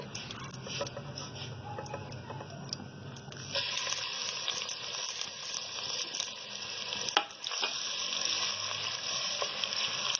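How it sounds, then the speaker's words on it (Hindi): Steady sizzling of onions frying in hot oil, which grows louder and brighter partway through, with a few faint clinks and stirring noises and no talking. "उसमें हम तेल डालेंगे ½ कप और प्याज ऐड कर देंगे"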